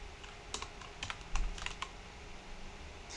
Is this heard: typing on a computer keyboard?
yes